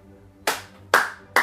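Three sharp hand claps ring out one after another with short pauses between them, close and crisp against a quiet room.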